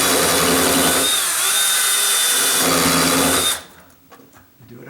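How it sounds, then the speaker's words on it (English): A power drill bores a hole into a 2x4 while fixing a sagging exterior glass door, a loud steady whine that runs for about three and a half seconds, then cuts off into quiet handling noise. "Now I'm going to drill a hole right down in here, and this is going to go into the 2x4."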